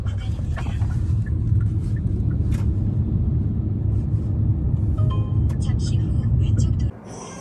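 A taxi drives along after rain with a steady, loud low rumble of engine and road noise throughout, a few faint clicks and interior sounds near the end before the rumble suddenly drops.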